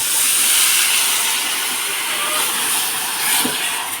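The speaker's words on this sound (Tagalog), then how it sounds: "Lalagyan natin siya ng konting tubig." Water poured into a hot pan of melting sugar for a cassava sweet sends up a steady, loud hiss of steam that rises briefly then fades slightly, with no talk.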